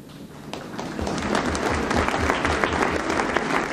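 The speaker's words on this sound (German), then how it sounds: "Ich hoffe, man hat den Applaus bis zum Big Apple gehört." A symposium audience breaks into applause that swells within the first second into a dense, steady clapping and holds at full strength to the end.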